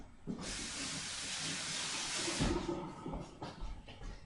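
A tap runs steadily for handwashing in a home kitchen while French toast is being made, a broad close hiss with a brief clatter midway and quieter splashing toward the end.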